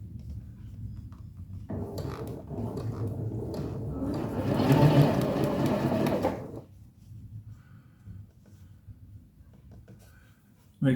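A sewing machine runs a straight seam across quilting fabric for a Drunkard's Path block, a steady mechanical whir that rises louder in the middle and then stops, leaving quiet room tone.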